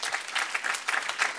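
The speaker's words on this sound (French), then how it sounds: "je souhaiterais qu'on les applaudisse" An audience at an agricultural direct-marketing trophy ceremony applauds the event staff, a brief burst of dense, steady clapping from a crowd with no voices over it.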